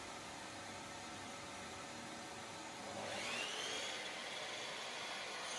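A Makita saw runs with a steady broadband whine that swells louder and brighter about halfway through, with a rising tonal sweep as the blade cuts into a piece of wood.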